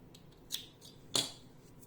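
Two quick, crisp snips of scissors cutting crochet yarn on a cup cozy, close and quiet, with a short pause between them and no voices.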